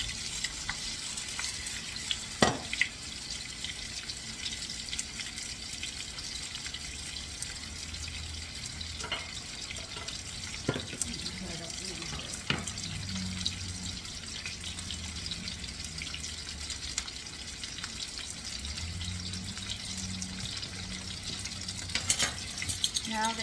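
Potatoes fry in a pan for sausage with hot peppers, giving a steady, fairly quiet sizzle with occasional sharper crackles and clinks, and low murmurs underneath.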